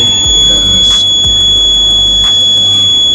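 A homemade water-sensing alarm gadget emits a steady, continuous high-pitched buzzing tone throughout, loud and close, with faint background hum.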